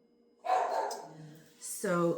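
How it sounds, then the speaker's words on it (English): A dog gives a couple of short barks at moderate distance, set behind a person talking in a quiet room. "You might hear a little bit of dog barking"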